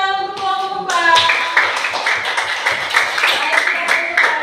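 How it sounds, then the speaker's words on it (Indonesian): Classroom applause for a student group, a crowd of hands clapping steadily and fairly loud for several seconds after a short spoken line. "tepuk tangan untuk kelompok 4"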